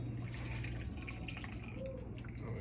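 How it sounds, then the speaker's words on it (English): Cooking liquid from poached chicken being poured off into a measuring cup for a salad dressing, a steady close trickling and dripping stream with a constant low hum underneath. "So I'm just gonna pour it off into my measuring cup."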